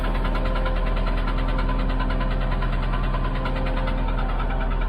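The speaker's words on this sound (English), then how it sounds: "I hear a noise in the motor." A used car with 159,219 miles and an odd noise in its motor idles steadily, a loud, constant engine drone with a faint underlying knock running unbroken throughout.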